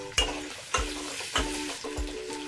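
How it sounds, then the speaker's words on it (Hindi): Finely chopped ginger frying in butter with cumin for bhurji, a close sizzle broken by four evenly spaced clanks of a spatula stirring against the pan, no one speaking. "अदरक को भी सिर्फ कुछ सेकंड के लिए फ्राई करना है।"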